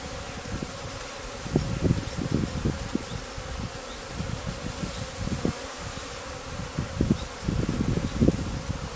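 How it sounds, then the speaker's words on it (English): Steady insect buzzing of many honeybees close by, swelling and fading in dense bursts over a constant droning hum, with no talking. "so far the bees are fairly well behaved."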